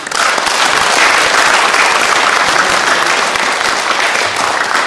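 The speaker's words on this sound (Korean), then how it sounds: "다시 한번 뜨겁게 박수해 주시기 감사드립니다" A lecture audience at a ceremony marking the 94th anniversary of the Tokyo 2.8 Declaration of Independence breaks into loud, sustained applause. Dense clapping from many hands holds steady and close throughout.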